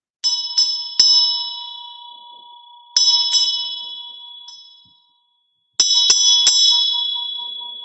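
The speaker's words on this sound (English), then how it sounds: "I want to ring my peace bell 3 times" A peace bell rung in clusters of bright metallic strikes, three near the start, a single strike a few seconds later and a final group of three, each leaving a long shimmering ring that fades into silence.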